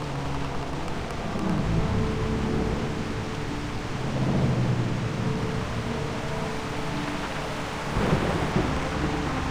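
A stormy scene in the game Reverse: 1999, with rain hissing steadily and low thunder rolling in several swells, including a louder rumble near the end.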